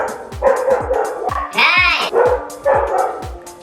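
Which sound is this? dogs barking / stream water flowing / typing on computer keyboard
dogs barking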